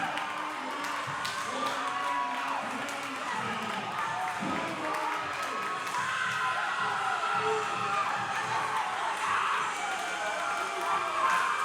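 A packed arena crowd cheers and roars throughout a women's college basketball championship game, a dense sustained wall of voices with whoops rising and falling, while a commentator talks over it.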